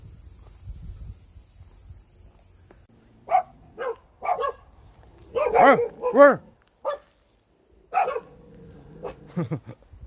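A dog gives a few short barks and yips close by, in scattered bursts, while a person speaks briefly between them.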